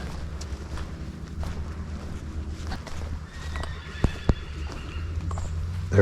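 A horse in the New Forest neighs and its hooves clip-clop nearby, outdoors with light wind on the microphone and no one speaking.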